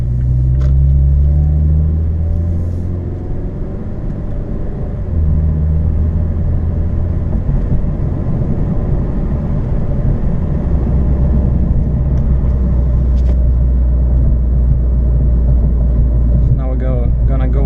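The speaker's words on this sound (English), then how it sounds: "like now downshift, because the engine brakes better than with automatic" A heavy-haul truck engine drones low and steady from inside the cab, its rumble shifting as it slows with engine braking after a downshift, with someone talking over it.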